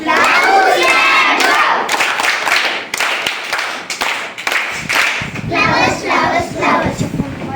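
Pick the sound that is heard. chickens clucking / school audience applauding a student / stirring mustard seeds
school audience applauding a student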